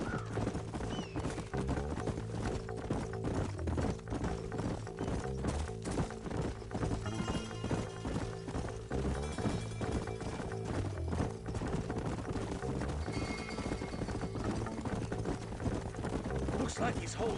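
Horse hooves clip-clopping in the video game Red Dead Redemption on PS4, a steady rhythmic trot running throughout beneath layered game music and sounds, with a whinny and people speaking over it.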